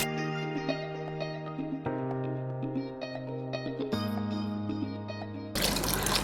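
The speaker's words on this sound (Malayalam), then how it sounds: "ഇനി വെള്ളം ഒഴിച്ച് കൊടുക്കണം" Water is poured into a pot of chicken biryani base with bay leaf and garam masala, a short rushing splash near the end after several seconds of background music.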